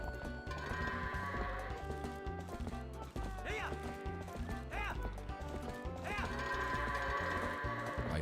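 Goats bleat in short, wavering calls during a herding minigame in the video game Twilight Princess, heard over busy game music with hoofbeats and animal noises.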